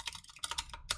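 Rapid keystrokes on a computer keyboard, a quick, close string of sharp clicking taps lasting about a second.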